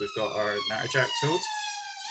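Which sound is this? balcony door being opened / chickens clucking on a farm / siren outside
siren outside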